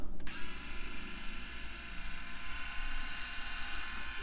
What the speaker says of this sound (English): you can see the three shavers, and here's the sound.